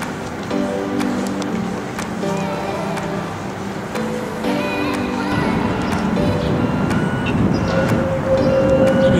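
Trains at Helsinki Central Station on a winter night give a loud, steady rumble, with scattered ticking clicks and faint voices in the background.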